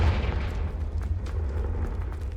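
A Confringo spell explosion in Hogwarts Legacy lands as a deep, rumbling boom with a low sustained roar over about two seconds.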